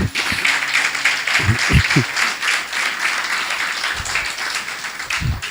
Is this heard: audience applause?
yes